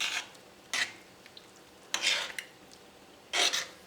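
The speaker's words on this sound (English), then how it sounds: "go ahead and add the cornstarch and keep stirring a little bit" A spoon scraping and stirring cornstarch through chicken mushroom cream sauce in a pan, three or four short raspy strokes separated by quiet pauses, close and fairly soft.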